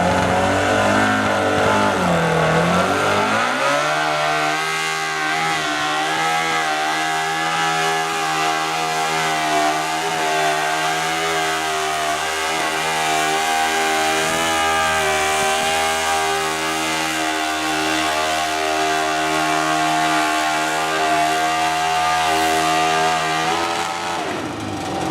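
A lawn tractor engine roars at the pull, revving hard and holding a loud, strained drone throughout as it hauls the sled, close and continuous with no break.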